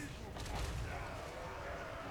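Cannon fire booms from a fortified city wall during a siege in a strategy video game on the Hanyu Port Cathay city map mod, a muffled burst of gunfire standing out briefly from a steady rumbling battle background.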